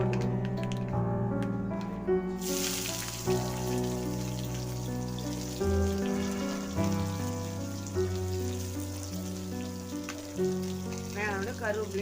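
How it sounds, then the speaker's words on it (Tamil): Chopped onions fry in hot oil with cumin and mustard seeds for a goat curry (attukkari kulambu), a steady crackling sizzle that runs through the whole stretch with no one talking. "கொஞ்சம் கடுகு போட்டு போட்டு நம்ம வெங்காயத்தை போட்டுக்கணும்."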